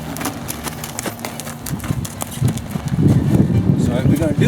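Horse hooves thudding and clopping in an arena during a ranch riding clinic, an uneven rhythm of hoofbeats that grows louder and busier toward the end, with someone talking over them.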